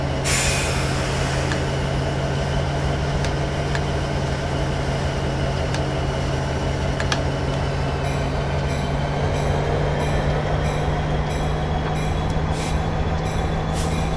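A Union Pacific SD60M freight train in Train Simulator 2019 rolls along with a steady low rumble and hum, and sharper wheel clicks start ticking in the second half. No one speaks.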